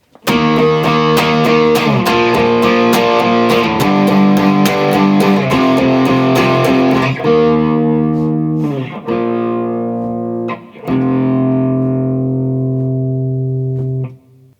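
An electric guitar plays a sustained, distorted chord passage with strummed attacks, loud and close, ending on held ringing chords.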